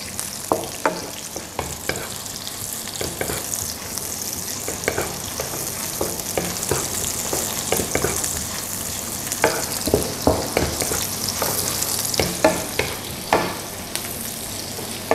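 Shallots and green chilies stir-frying in plenty of oil, a steady close sizzle broken by frequent scraping spatula strokes throughout.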